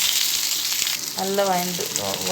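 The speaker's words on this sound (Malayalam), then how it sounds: "ഓയിലേക്ക് അതൊക്കെ ഇട്ട് കൊടുത്തിട്ട് അത് നല്ല ഫ്രൈ ചെയ്തെടുക്കാം." Tomato, onion, green chili and garlic fry in hot oil for a chana gravy, giving a steady, close, loud sizzle that runs throughout, with a few tonal scraping squeaks partway through.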